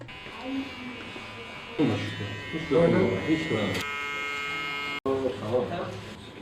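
Electric clippers buzz steadily during a barber's shave, close and continuous for a few seconds, while people talk over it and around it.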